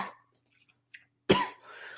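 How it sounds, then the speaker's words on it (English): A single sharp human cough bursts out close to the mic, preceded by brief breathy sounds and followed by a short trailing rasp, with no talking over it. "Sorry, I didn't mean to cough."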